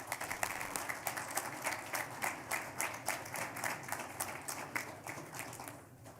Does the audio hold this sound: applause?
yes